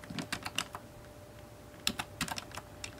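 Keys clack on a computer keyboard as a folder name is typed into a Raspberry Pi file manager, two short bursts of quick strokes separated by a brief pause, close and moderately loud with no talking.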